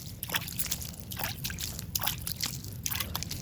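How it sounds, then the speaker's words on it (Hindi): Water flicked by hand onto coriander seedlings growing in soil mixed with cow-dung manure: a series of light, close spattering splashes and trickles arriving in irregular bursts, about six across the stretch. "या पानी को अपने हाथों के द्वारा इस तरह से छमक दीजिए"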